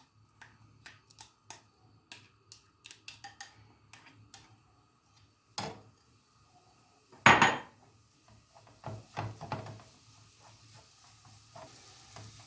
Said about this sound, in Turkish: Havucumuzu ekliyoruz. Havucumuzu soteleyeceğiz.